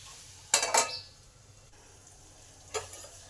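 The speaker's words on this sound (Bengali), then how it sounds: "নুন আর হলুদটাকে ভালো করে আমের মধ্যে মিশিয়ে দিই" Raw mango pieces are stirred with salt and turmeric in a pan, two bursts of scraping and clatter from a spoon against metal over a faint low background hiss.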